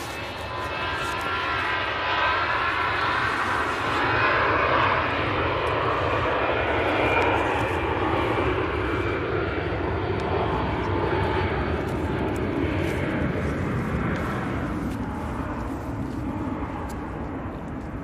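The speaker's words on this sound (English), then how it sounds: "Aer Lingus now returning back to Dublin." An Aer Lingus airliner departs Manchester Airport, its engines a loud, steady broadband roar that holds for the whole stretch, swelling slightly in the middle before easing off, with no talk over it.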